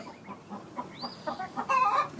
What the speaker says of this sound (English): So the chickens are going crazy.